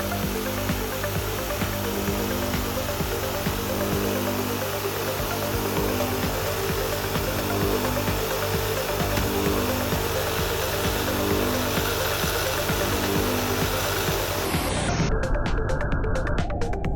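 A RUBI DC-250 tile saw cuts porcelain stoneware with a loud, steady motor whine and a grinding blade drone that runs without a break. Near the end the pitch shifts as the cut finishes.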